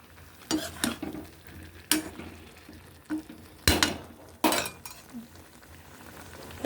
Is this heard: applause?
no